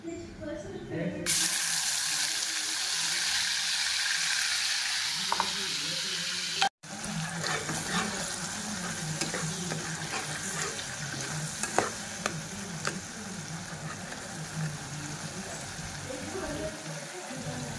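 Masala paste for fish curry drops into hot oil and fries with a loud, continuous sizzle and crackle, with stirring scrapes and someone speaking over it.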